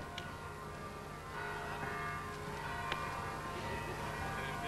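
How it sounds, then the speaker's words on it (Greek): Church bells ring at a distance on a Greek holiday morning, steady tolling tones carried over a constant background hum with no talk. "Ακούνε, χτυπούνε και ηχούν και οι καμπάνες"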